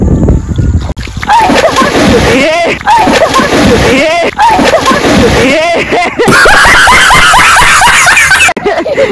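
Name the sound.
person pushed into river, splashing water and screaming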